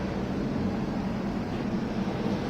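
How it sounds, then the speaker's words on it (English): Some twenty 1971 Formula One car engines on the grid of a racing game's Canadian Grand Prix, blending into a steady, droning hum with a low rumble, loud and unbroken, with no voices. "we hear the 20-odd engines already on the grid, some of them revving"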